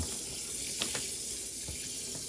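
Tap water runs steadily into a container, a close, continuous splashing stream with no voices.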